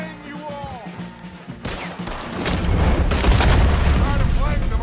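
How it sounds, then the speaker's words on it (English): Cannon booms and heavy gunfire in a Red Dead Redemption 2 battle, loud rolling blasts and volleys that build into a continuous roar, with a voice shouting in the first part. "We need to take out that cannon!"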